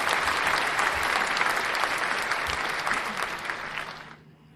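An audience claps at an African Women in Games Forum, a dense crowd applause that stays steady for about four seconds and then tapers off into quiet.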